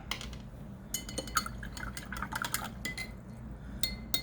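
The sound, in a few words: rinsing out a paintbrush in water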